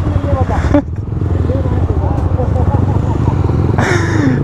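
A TVS RTR 310 motorcycle rides along, giving a steady, loud engine drone and wind rumble throughout, with a voice talking over it.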